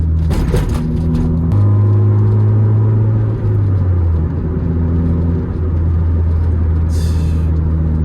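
Honda Civic with a blast pipe exhaust, lowered Japanese-style build, driving with a loud, steady droning exhaust rumble that shifts pitch as it changes speed, heard from inside the car.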